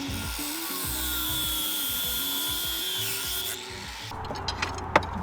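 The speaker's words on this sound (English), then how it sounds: "If you ever have a choice between doing something the hard way and using an angle grinder" An angle grinder cuts off an old propane regulator during a propane install in a vintage Airstream, giving a steady, loud, whining grind for about four seconds before it stops, followed by a few faint clanks.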